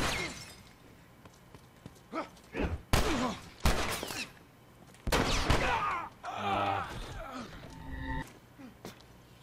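Gunfire in The Last of Us, several sharp broadband shots scattered across the span, some in quick pairs, mixed with game effects and a voice talking and swearing between them.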